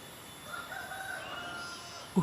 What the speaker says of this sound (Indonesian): Ada ayam, suara ayam kencang banget, kencang sekali tuh.